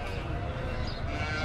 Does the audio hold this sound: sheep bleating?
yes